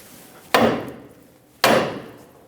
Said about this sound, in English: we're going to tap the side of the knuckle here, right where it goes through, and that should release the stud from the knuckle